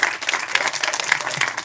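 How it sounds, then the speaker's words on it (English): Dense audience applause at a clean energy forum for EU islands, a loud, continuous wash of many hands clapping throughout. "So big applause for Agata,"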